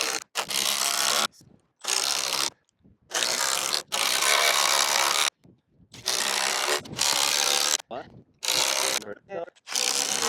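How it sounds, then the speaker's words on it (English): Bursts of a power drill whirring into wood, pre-drilling holes in a wooden brace, several separate runs of a second or two with short pauses between, loud and close. "now I'm gonna pre-drill 2 holes here in this brace."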